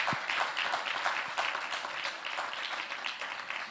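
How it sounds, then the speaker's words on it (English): Audience applause for participants at a fintech challenge semi-final event, a steady, dense clapping that fills the room without a break. "another round of applause for the participants"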